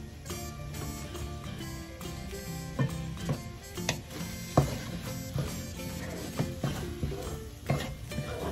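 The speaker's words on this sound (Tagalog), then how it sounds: "Mix well po hanggang sa maluto yung itlog at yung kanin." Egg and rice are stirred together while frying in a pan, with a steady sizzle beneath repeated scraping and knocking of a utensil against the pan, close and continuous.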